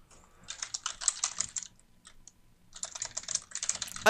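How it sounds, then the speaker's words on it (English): Rapid typing on a computer keyboard during a Heroes of Newerth match, heard in two dense bursts of clicking keys separated by a short pause, close and clear. "as we hear Miesty typing"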